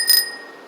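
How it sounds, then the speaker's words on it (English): A standard bicycle bell gives a single bright ding that rings out loud and close, then decays into a sustained metallic tone. "we got your standard bell. That's a bell. The ding, ding, ding bells."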